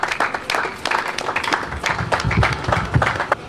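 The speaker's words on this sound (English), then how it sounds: "Please, let's keep clapping." An audience claps at an academic foundation lecture, an uneven patter of individual hand claps with distinct separate strikes rather than a dense roar, moderately close and with no talk.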